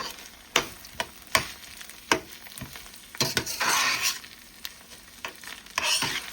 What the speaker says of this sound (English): we're gonna this rice fried down with this with all the sauces until all coated